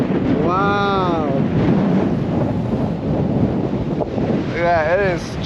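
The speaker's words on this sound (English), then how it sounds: "it is just crazy windy" Strong wind on Black Butte Lake buffets the microphone in a continuous loud roar on an open lakeshore fishing outing, while short bursts of a person speaking cut through at the start and near the end.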